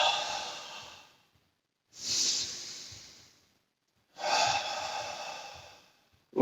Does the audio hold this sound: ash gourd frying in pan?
no